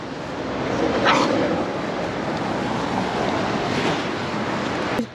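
A reactive Yorkshire terrier gives a single sharp bark about a second in, set against steady broadband outdoor noise like wind or surf that runs throughout.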